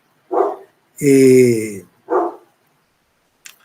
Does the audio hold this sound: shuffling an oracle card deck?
no